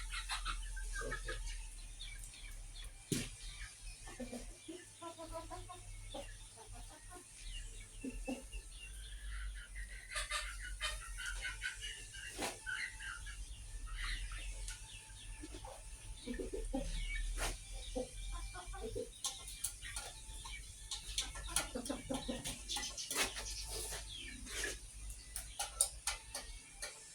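Kampung chickens cluck and chatter in short, scattered calls over a steady low background hum, with occasional sharper sounds and a rooster-like call mixed in; no clear voices.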